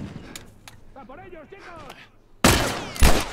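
Talking gives way to a burst of loud gunfire in The Last of Us Remastered, rapid sharp shots clustered together near the end, cracking and echoing close by.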